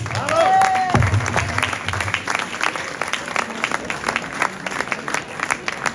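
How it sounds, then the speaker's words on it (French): Crowd applause for neighbourhood associations and a prevention club at an inauguration, with a dense, sustained patter of clapping from a sizable audience after a brief tonal sound at the start. "Je pense qu'on peut tous les applaudir."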